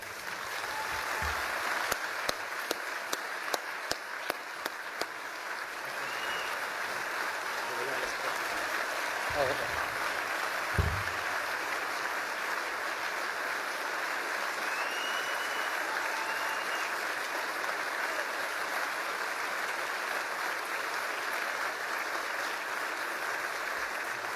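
Audience applause fills a benefit dinner hall as firefighter Brendan Cawley is welcomed to the stage, a steady, sustained clapping that runs throughout with some sharper claps early on.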